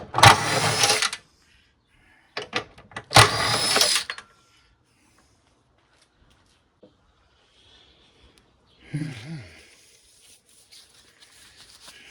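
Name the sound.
cutting a hole in an air conditioner compressor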